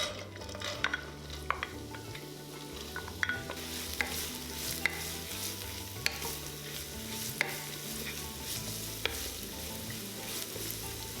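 Carrot, celery, shiitake mushroom and ginger sizzle in vegetable oil in a pan, a steady close crackle broken by regular light scrapes and taps of stirring, with no voices.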